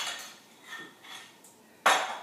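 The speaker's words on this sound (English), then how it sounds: "with the back of a clean spoon we're just going to wipe it" The back of a clean spoon wipes across a dish in a few soft scraping strokes, faint and close, ending with a brighter clink of metal on the dish.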